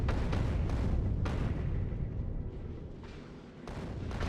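Artillery fires in the video game Factorio: Space Age, a string of deep, rumbling booms rolling over one another at moderate loudness, with no talking.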